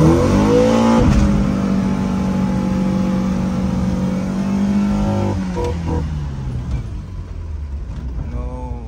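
A Volkswagen Golf project car accelerates hard in first gear, its engine note climbing loud and close, then cutting off as tire noise and lighter revs follow.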